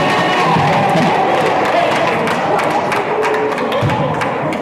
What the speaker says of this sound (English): the Ascension Episcopal crowd with a sarcastic bit of applause